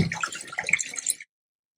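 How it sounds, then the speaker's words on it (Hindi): A toilet flushes with bubbly, gurgling rushes of water that stop abruptly, heard faintly over a remote call connection from a washroom. "फ्लश की आवाज आ रही है।"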